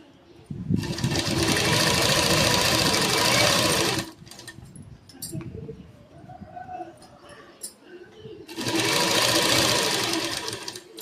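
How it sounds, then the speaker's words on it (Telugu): A sewing machine runs in two loud, steady bursts while stitching back over an earlier seam on a round neck's inner piping, with quieter handling noises and faint bird coos between the bursts. "ఇప్పుడు మనం ఇందాక ఏ కుట్టు అయితే వేసామో అదే కుట్టు మీద వేసేసుకోవాలన్నమాట"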